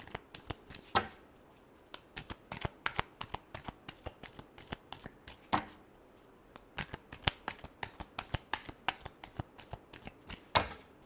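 A deck of cards is shuffled over and over, each riffle a quick, close, crisp burst of flapping cards followed by short pauses, heard alone with no talking.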